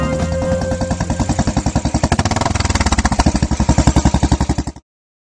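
A motorcycle engine revs with a rapid, pulsing putter that speeds up, then cuts off abruptly near the end.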